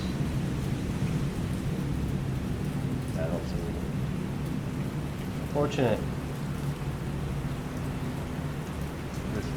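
Steady rain hiss and distant low thunder rumble at sea in the War on the Sea naval game, with a couple of brief clicks and a short spoken remark over it.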